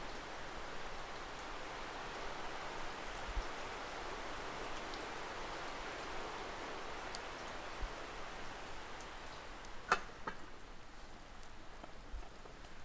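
Steady rain falls on a quiet rainy day, a soft continuous hiss with scattered raindrops ticking and plinking nearby, gentle and even throughout with no voices.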